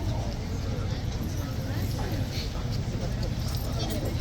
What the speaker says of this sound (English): Okay, so 2 new horses are now out.